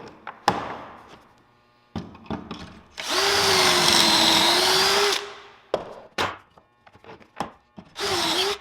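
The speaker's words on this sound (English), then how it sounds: "I'm going to be putting it together with pocket screws. So with that, I'm going to be using the Craig jig" A power drill bores pocket holes in cedar boards held in a Kreg pocket hole jig, with two loud whirring bursts of drilling separated by clattering handling, knocks and setting down of the wood nearby.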